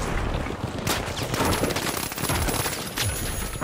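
Rapid gunfire in the competitive shooter THE FINALS: a light player's M11 submachine gun fires dense, loud bursts with sharp cracks, sustained through most of the stretch.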